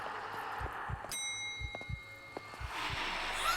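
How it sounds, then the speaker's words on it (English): A bell in the horror game Maid of Sker gives a sharp ding with a long ringing tail, struck once clearly and again more faintly, over low thudding footsteps and ambient game noise. "I think he heard the bell."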